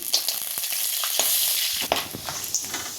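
Star anise and cinnamon fry in hot oil for homemade goda masala, with a steady close sizzle and crackle and occasional stirring clinks, no voices.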